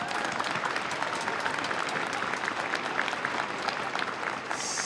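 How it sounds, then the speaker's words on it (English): An audience at the 2023 Oregon Tech commencement ceremony claps for graduates' supporters, a dense, sustained round of applause filling a large hall with steady intensity. "Let's give them one more round of applause."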